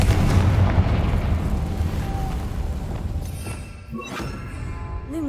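In Hogwarts Legacy, the Confringo fire spell lands as a loud, booming explosion with a rumbling tail that fades, followed by a smaller crackling burst near the end.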